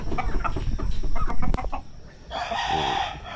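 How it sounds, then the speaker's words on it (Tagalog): Chickens cluck and squawk close by in a backyard flock raised on a small farm in Tarlac, with a dense, busy run of overlapping calls. A louder burst of squawking rises near the end. "Mga manok tulad ng mga manok na alaga namin ngayon."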